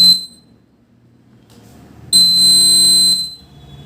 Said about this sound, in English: When the fire presents in the fire sensor, the buzzer will beep the sound.